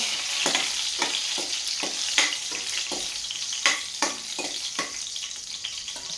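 Garlic and green chillies fry in hot oil in a pan for dal, a close, continuous sizzle punctuated by regular scraping stirs roughly every half second.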